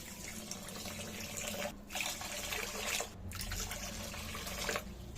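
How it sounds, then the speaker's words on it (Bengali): Water pours steadily into a pan of sugar for rasgulla syrup, a soft continuous splashing that breaks off briefly twice before resuming, faint and with no voices. "যেহেতু চিনি দিয়েছি তাই 3 বাটি এখানে জল দিয়ে দেবো"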